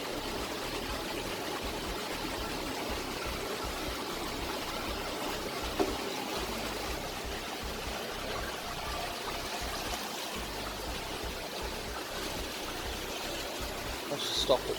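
A small water turbine spins in a flow of poured water, giving a steady, fairly loud rushing, trickling wash that runs unbroken throughout with only a couple of brief knocks.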